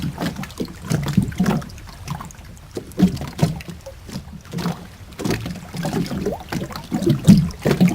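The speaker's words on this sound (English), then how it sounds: "it could be like you're on a boat and you're, you know, rowing the boat gently along down the stream" Oars dipping and pulling through water as a small boat is rowed along, with repeated soft splashes and swishes in an uneven rhythm, close and moderately loud, no talk.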